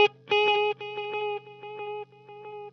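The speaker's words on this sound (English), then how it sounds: "So on delay number two, I have a dotted eighth note delay set at tape" A guitar note rings out through a TC Electronic Triple Delay with a dotted eighth tape delay stacked on a quarter-note delay, producing dense overlapping echoes that flutter and gradually fade, alone without voices.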